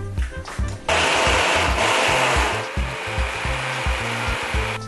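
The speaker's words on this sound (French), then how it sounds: "Là, on va mixer l'oignon, on met ça dans le mixeur." A kitchen blender pulses and then runs steadily, chopping onion, with a loud, close whirring roar broken by rhythmic changes in pitch.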